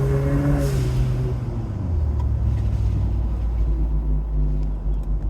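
A turbocharged car's blow-off valve vents in one short, sharp hiss near the start, followed by the car's low engine rumble running on under it, close to the listener.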